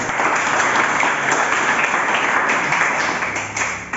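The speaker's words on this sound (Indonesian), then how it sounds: "Berikan dulu tepuk tangan untuk Bapak" Classroom audience applause for a man, steady dense clapping filling the whole stretch, fairly loud and continuous with no talk over it.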